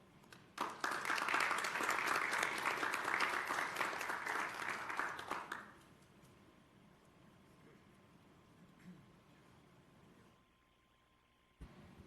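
Steady audience applause at a board of education meeting swells for about five seconds at moderate distance, then stops abruptly, leaving faint room tone and a soft thump near the end.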